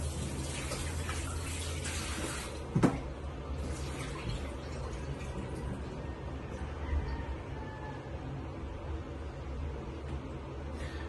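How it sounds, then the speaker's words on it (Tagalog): Tap water runs in a sink as a tambakol fish is washed, a soft, steady stream of splashing with one brief thump partway through. "Hugasan ko muna itong isda mga ka-promdi."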